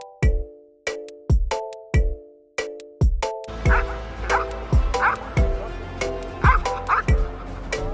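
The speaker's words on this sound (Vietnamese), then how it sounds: "Chú chó liên tục sủa để đe dọa những kẻ định tiếp cận cậu bé" A dog barks repeatedly in sharp, loud yips, first in spaced single barks, then in a faster run of barks over rustling background noise.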